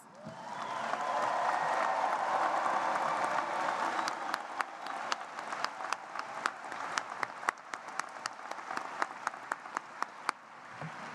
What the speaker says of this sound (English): can I hear you loud and mighty, the loudest cheer you can give for the class of 2020?